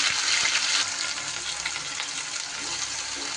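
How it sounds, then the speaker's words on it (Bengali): Onion, ginger, garlic and green chilli paste sizzling steadily in hot oil with whole garam masala, a continuous close hiss with a brief louder burst at the start. "এইবার তার উপরে দিয়ে দিচ্ছি আমি যে প্রথমে যে পেঁয়াজ, আদা, রসুন আর কাঁচা লঙ্কার পেস্টটা করলাম সেটা।"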